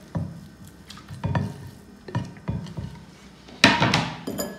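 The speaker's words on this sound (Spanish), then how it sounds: "Y aquí mismo vamos a agregar todo nuestro pollo." Chicken pieces for boneless wings tumble into a bowl, several soft wet thuds and clinks against the sides in irregular bursts, close and fairly loud with no talking.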